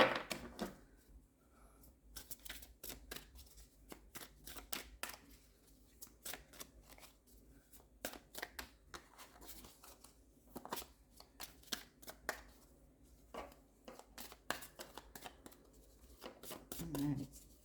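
Tarot cards being shuffled by hand make close, crisp riffling bursts and flicks in irregular clusters, with quiet pauses between them.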